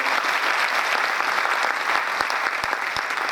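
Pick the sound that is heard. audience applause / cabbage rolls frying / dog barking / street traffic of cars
audience applause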